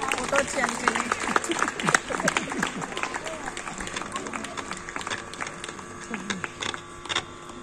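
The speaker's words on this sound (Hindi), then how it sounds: "ताली गड़गड़ा होती रहे" Audience applause at a Hindi cultural ceremony honouring a centre head during a spring festival in Amit Park, steady clapping across the whole stretch, mixed with crowd noise and voices.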